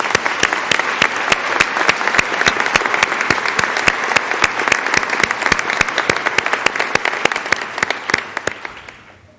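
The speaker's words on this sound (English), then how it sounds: "Please join me once again in applauding all of our inductees into the Gold Humanism Honor Society." An audience applauds inductees into the Gold Humanism Honor Society at a medical school induction ceremony, with dense, steady clapping that fills the hall and fades out at the end.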